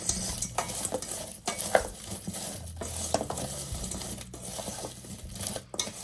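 A utensil stirs roasted potatoes with dried parsley in a pan, with scraping, clinking strokes over a light sizzle, close and moderately loud, and no talking.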